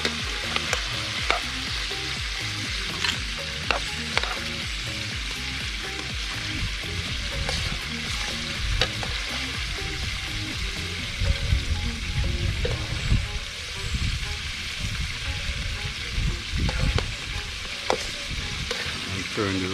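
Crayfish sizzle and fry in a pan, a dense, steady crackle close up, with occasional stirring clatter and spatters throughout and no voices.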